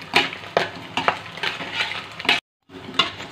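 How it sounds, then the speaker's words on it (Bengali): Small pieces of mutton fat frying in a little oil in a pan, steady sizzle broken by repeated stirring scrapes, close and clear, with a brief silent gap near the end. "এবারটা এগুলো তেলে ভেজে নেব, এই জন্য অল্প তেল লাগবে।"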